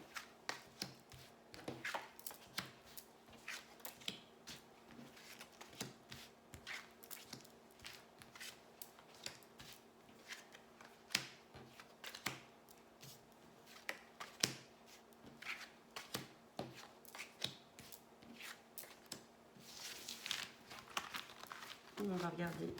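Tarot cards are shuffled and drawn in a steady run of quick papery riffles, slaps and flicks, close and fairly quiet, while a voice talks now and then alongside.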